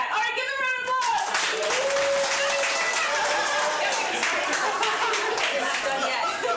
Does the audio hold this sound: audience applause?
yes